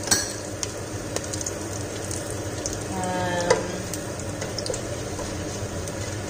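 Whole spices such as cloves fry in a pan for ghee rice with a steady, close sizzle, broken by occasional scrapes and clinks as they are stirred.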